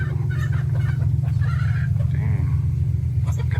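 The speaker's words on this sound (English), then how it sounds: "Our chickens are friends, not food." Chickens cluck and call in short bursts over a constant low engine hum, likely from an airboat ride in the Everglades.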